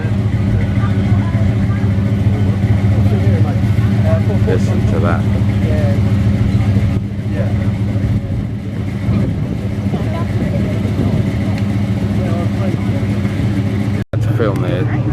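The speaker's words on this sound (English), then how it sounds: "God, I love that sound, right? Sound of a V8 burble." An American V8 car engine idles nearby at a car show at Billing Aquadrome, its low rumbling burble continuous and loud. Someone talks over it.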